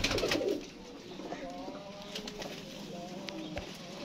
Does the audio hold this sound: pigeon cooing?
yes